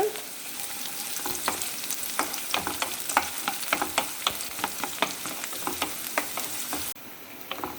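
Large chopped onion with ginger, green chili and garlic frying in hot oil in a pan for a spicy prawn fry, a continuous sizzle broken by regular scraping stirs, close and clear, dropping quieter near the end.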